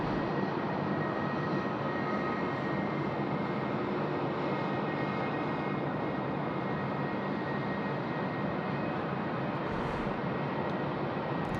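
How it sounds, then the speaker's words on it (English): Qantas airliner rolling for takeoff on runway 34 left at Sydney Airport at night, a steady, broad engine roar that holds evenly throughout at moderate distance. "Qantas 745 off to Adelaide is now rolling 3-4 left."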